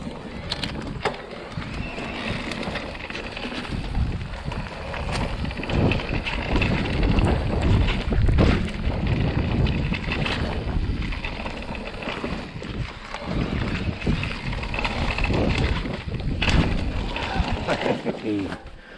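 A Bergamont electric mountain bike rushing down a trail section, with steady wind roar, rattling and crunching tyre noise throughout, rising and falling in loudness.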